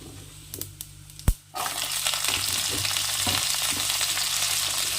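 Vegetables drop into hot oil with whole cumin seeds, setting off a sudden loud, steady sizzle that keeps frying evenly after a few quiet clicks and a sharp clatter.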